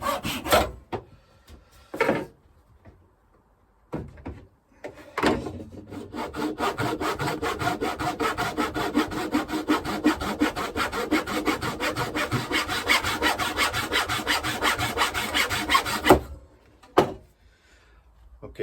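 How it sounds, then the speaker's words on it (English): A hand saw cuts a wooden fretboard to length during an electric guitar build, with sustained rapid back-and-forth strokes close by for about ten seconds, framed by a few knocks and taps of wood before and after. "I'm going to trim the fretboard to length now."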